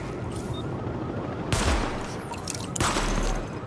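Sidearm gunfire during a weapon test in The Division, two sharp, loud shot bursts about a second apart over steady background ambience.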